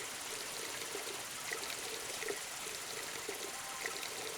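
Water sprays loudly in The Sims 2, a steady broadband hiss and splash that keeps up unbroken throughout with small spurts along the way, no voices over it.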